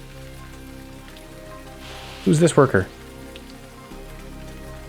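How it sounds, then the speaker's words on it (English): Steady soft rain patters throughout a scene in the video game DotAGE, a faint continuous hiss under a short burst of a person speaking midway. "It's raining."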